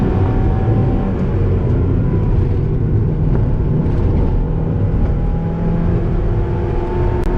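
A stock Mazda Miata (MX-5) engine runs at full throttle in third gear on a country road, a loud, steady, rough drone with a rising pitch, continuous and close throughout, with no talking.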